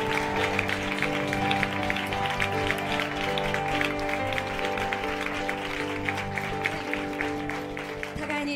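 A church congregation claps in thanks at the close of a Sunday worship service, steady and moderately loud across many seconds over a sustained organ or keyboard chord that holds beneath it.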